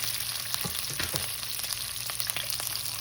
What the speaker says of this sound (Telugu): మనం కారానికి సరిపడేటట్టు పచ్చిమిరపకాయలు, ఎండుమిరపకాయలు పోపులో వేసుకోవచ్చు.